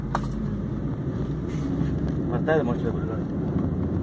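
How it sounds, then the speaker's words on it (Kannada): Strong wind blowing dust during an unusual storm near Hiriyur, Karnataka, outdoors: a loud, steady buffeting rumble across the microphone, with faint voices underneath. "ಬೇಡ ಗಾಳಿ ತುಂಬಾ ಇದೆ ಇಲ್ಲಿ"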